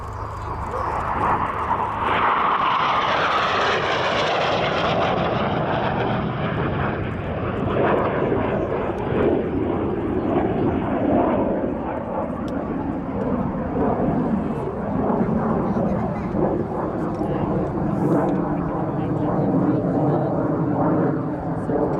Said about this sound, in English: the F86A Sabre, the only A model still flying